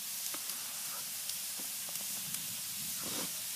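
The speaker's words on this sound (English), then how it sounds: "Filling up with steam in there, that's a good sign." A covered popcorn pot sits over an open fire and fills with steam. A steady, soft hiss runs throughout, with faint scattered crackles and ticks beneath it.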